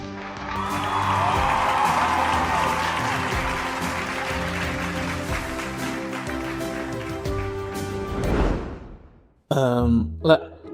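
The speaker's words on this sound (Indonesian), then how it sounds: "Tepuk tangan sekali lagi untuk pasangan pemenang kita." An animated school drama's crowd applauds the winning king-and-queen couple, steady sustained clapping and cheering under music before cutting off near the end.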